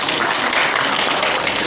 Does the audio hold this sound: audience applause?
yes